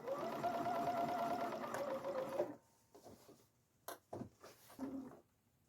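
A sewing machine stitches a fabric sink skirt in a steady close whir for about two and a half seconds, then stops, followed by a few faint clicks and handling sounds.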